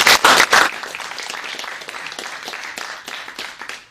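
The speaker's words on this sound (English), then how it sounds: "So please give a warm round of applause and welcome Mayor White." An audience applauds to welcome Mayor Ben White at a school talk, with a few loud close claps at first, then dense sustained clapping from a crowded room that tapers slightly toward the end.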